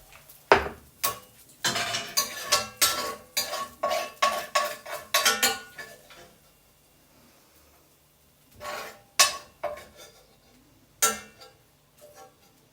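A metal spoon scrapes and knocks against a pot, gathering the last bits of spaghetti with asparagus and bacon; a dense run of clinks and scrapes, then quieter, sparser taps after a pause, close and with no talk.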